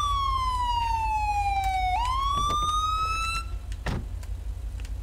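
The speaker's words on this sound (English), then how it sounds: "God, this siren's annoying." A police car siren in the video game GTA V, a loud wailing tone that sweeps down and then back up, followed by a brief burst of noise, with no talk.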